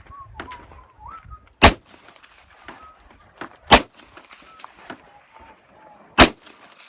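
Three sharp, loud Glock 17 pistol shots fired a couple of seconds apart outdoors, with quiet ambient sounds and faint bird calls between them.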